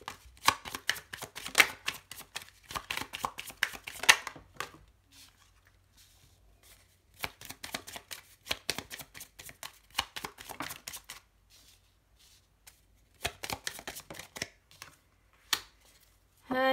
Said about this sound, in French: il m'envoie des cartes, mais il me les met par terre évidemment,